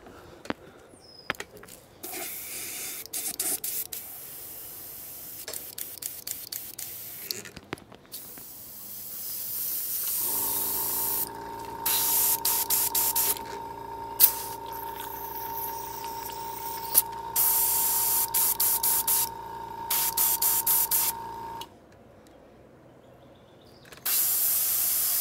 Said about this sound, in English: So next, what we'll do is, using airbrush only